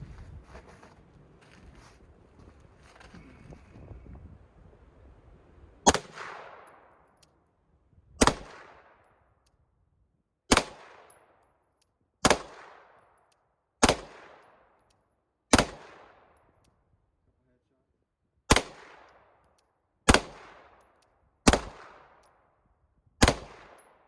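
Ruger 10/22 rifle fired at target practice on a windy day, ten sharp reports spaced a second or two apart, each cracking loud and decaying quickly, after a stretch of wind and handling noise.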